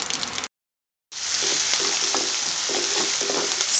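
Finely sliced onions hit hot oil already spattering with cumin and mustard seeds, a loud steady sizzle after a brief silence, with faint stirring knocks under the hiss.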